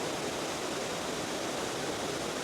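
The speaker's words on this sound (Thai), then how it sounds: "เป็นสายน้ำตกไหล ผ่านล่องหิน กระโจนสู่แอ่งน้ำด้านล่าง" Mae Wa waterfall in Mae Wa National Park, Lampang, pours over rocks into a pool below as a constant, even roar of rushing water with no other sounds.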